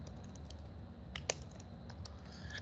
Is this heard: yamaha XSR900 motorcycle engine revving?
no